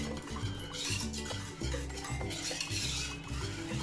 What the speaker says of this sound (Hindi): और अच्छी तरह से मिक्स कर लेंगे।